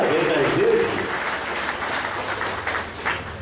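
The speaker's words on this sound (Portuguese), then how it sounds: "salva de palmas para o nosso Deus" Applause from a church congregation, a steady crowd clapping that fills the room, with a voice briefly over it at the start and the clapping thinning slightly toward the end.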